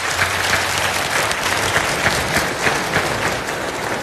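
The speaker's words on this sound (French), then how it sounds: "Cette chaleur d'applaudissements honore votre charme et votre beauté." Warm, dense applause fills a hall at a football award ceremony's opening, steady and loud throughout from a large audience, with no voices rising above the clapping.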